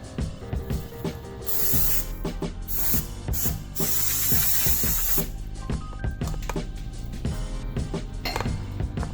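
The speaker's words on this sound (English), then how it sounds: "Give it another spray." Aerosol spray paint applied to the brake calipers of a Lincoln Town Car, with repeated bursts of close hissing spray interspersed with metallic clinks and rattles.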